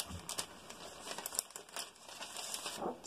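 Paper from a craft pack crinkles and rustles close by in a steady run of crackly handling, with no voices over it.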